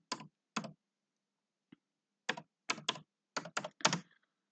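Typing on a computer keyboard, heard up close as short separate bursts of key clicks with pauses between them, in a quiet room with no voices.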